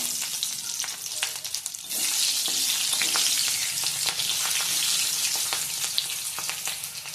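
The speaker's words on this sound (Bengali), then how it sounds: "এবার তেলের ওপর দিয়ে দেব দুটো তেজপাতা, দুটো কাঁচা লঙ্কা" Bay leaves and green chillies hit hot oil left from frying potatoes for a fish curry, a loud, continuous close sizzle with crackling bursts that intensifies partway through.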